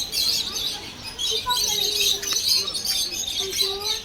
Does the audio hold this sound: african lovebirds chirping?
yes